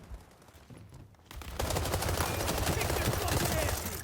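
Rapid bursts of automatic gunfire from the World War 3 shooter game, starting quietly then swelling into a dense, continuous fusillade that fills the last few seconds.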